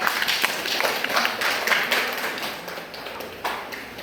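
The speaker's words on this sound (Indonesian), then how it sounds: "Tepuk tangan dulu Bapak Ibu." A church audience at a catechesis gathering claps in steady, fairly close applause of many hands for the whole few seconds, with no talk over it.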